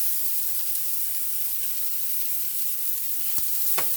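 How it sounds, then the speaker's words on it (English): Chopped vegetables sauté in a hot pan still greased from browned sausage, giving a steady close sizzle with two short scrapes or clacks near the end as they are flipped. "In this same pan, go ahead and saute my vegetables."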